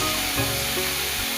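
Grated onions with slit green chillies sizzle steadily in hot oil for a fish curry, a close, continuous frying hiss with faint stirring clicks.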